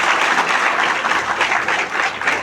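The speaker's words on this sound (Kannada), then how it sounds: "ಅದಕ್ಕೊಂದು ಸರಿ ಚಪ್ಪಾಳೆ ತಟ್ಟಿಬಿಡ್ರಿ." An audience at an educational lecture for teachers breaks into sustained applause, a dense and even wash of many hands clapping at moderate loudness with no voices over it.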